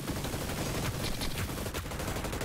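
Automatic gunfire from the video game Hyper Scape, a loud dense burst of rapid shots that continues through the whole stretch with no break.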